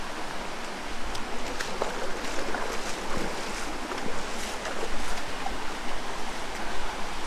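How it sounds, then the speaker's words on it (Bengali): Heavy rain and hard-falling waterfall water on a forest trail to a waterfall: a dense, constant rushing hiss with splashing bursts, loud and enveloping, no voices. "বৃষ্টি এবং পানির পড়ার প্রচণ্ড পানি পড়ার শব্দ"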